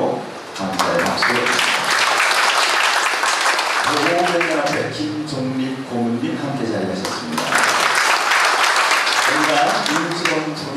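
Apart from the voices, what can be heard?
applause for the guests at a wedding ceremony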